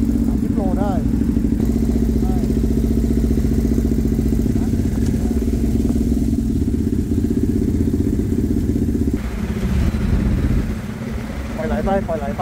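A Honda NT1100 motorcycle coasts off the throttle with a steady mid-pitched engine drone and road noise, recorded on the bike, while a rider speaks over it.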